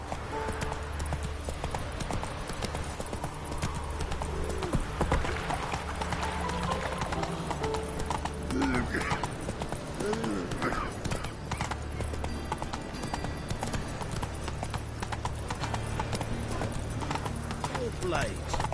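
Hooves of the horse in The Witcher 3: Wild Hunt clip-clop steadily in a trotting rhythm amid game ambience and music, with a brief whinny and character voices speaking over it.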